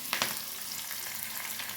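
Tempering spices and curry leaves sizzle in hot oil, making a quiet, continuous crackling hiss with a couple of sharper pops at the start.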